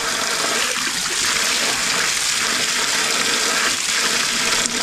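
Well water gushing steadily from an outdoor hose bib, a loud, constant broadband rush of flowing water with no pauses, heard up close.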